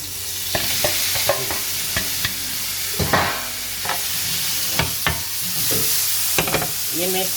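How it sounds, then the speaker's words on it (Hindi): Chicken tikka boti pieces frying in a grill pan, a loud, steady sizzle broken by repeated clicks and scrapes as the pieces are stirred and turned, with no voices. "लेकिन मैं इसको इस ग्रिल पैन में बना रहा हूँ"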